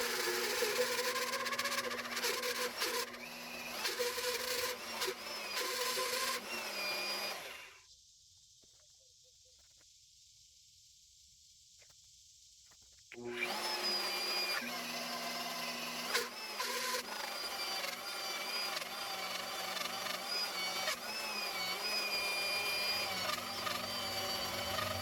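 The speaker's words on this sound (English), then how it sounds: "these annular cutters are really loud" Annular cutter drilling through stacked steel plates for a mobile beef processing trailer, a loud sustained grinding and whining with shifting tones, broken by a roughly five-second near-silent pause before the cutting resumes.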